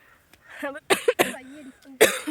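Coughing from a person amid a hospital visit, a few harsh bursts breaking through nearby voices, with talk and throat sounds mixed in close to the microphone.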